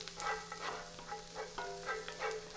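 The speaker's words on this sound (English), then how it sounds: "with the garlic, all you have to do is just saute it until just for the fragrance" Garlic and vegetables sautéing in a pan over medium-high heat, a quiet steady sizzle with soft, rhythmic stirring swishes about every half second, no voices.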